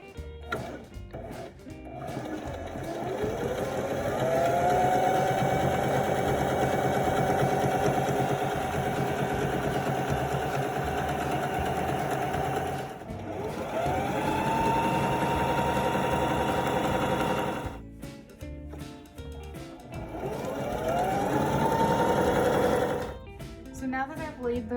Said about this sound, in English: I have it on a zigzag stitch, and I'm just gonna go ahead and stitch those together.